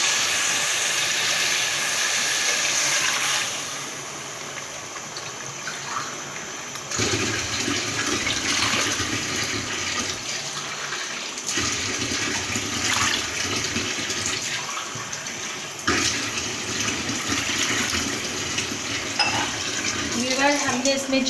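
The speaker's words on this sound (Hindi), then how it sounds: "अब हम इसमें पानी शामिल करेंगे 4 गिलास या 1 लीटर।" Water pours steadily and noisily into a cooking pot of beef nihari for several seconds, about a litre, a broad rushing hiss that swells and eases in bursts.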